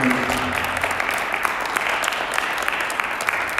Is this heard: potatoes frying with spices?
no